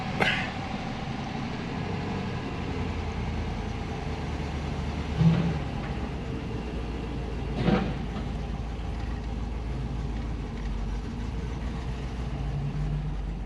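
A Corvette C2 engine idles steadily outdoors, a low continuous rumble throughout with a couple of brief louder bumps, no talking.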